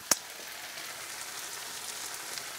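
A steady soft sizzle of tomato sauce frying in a pan, continuous crackling hiss with a brief click near the start and no talking.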